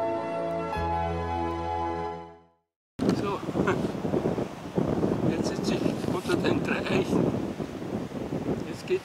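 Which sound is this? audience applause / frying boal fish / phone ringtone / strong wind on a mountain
strong wind on a mountain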